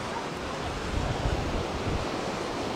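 Sea waves wash onto a beach near Side in Turkey, making a steady broadband rush of surf mixed with wind buffeting the microphone, continuous and fairly loud with no speech.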